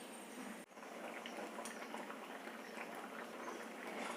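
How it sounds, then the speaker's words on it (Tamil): A pot of sambar with tamarind simmers and bubbles steadily, a soft continuous gurgling hiss, close and quiet. "இப்போ சேர்ந்து இது கொதிக்கட்டும்"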